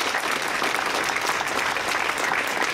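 A Slovenian audience gives a big round of applause in a short, continuous burst of dense clapping with no voices on top.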